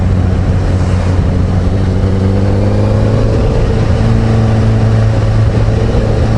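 A motorcycle engine hums steadily while cornering, its pitch easing down as the rider brakes into the corner, then climbing again as the throttle opens on the exit, with constant wind noise throughout.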